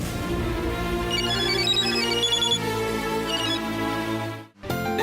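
A telephone ringtone plays a bright, repeating electronic melody close and loud for about four and a half seconds, drops out briefly, then starts again; no one speaks.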